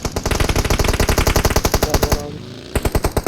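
Automatic gunfire in PUBG Mobile rattles out in a rapid, loud, close burst of evenly spaced shots, breaks off briefly, then resumes with another quick volley.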